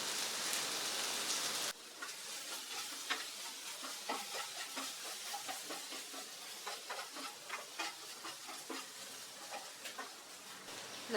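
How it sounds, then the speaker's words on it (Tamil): Potato fry with salt, turmeric, chili powder and asafoetida is stirred in a pan, a soft sizzle broken by a run of irregular scraping, clattering strokes up close, with no talking. "நல்லா மிக்ஸ் பண்ணி விட்டுக்கலாம்."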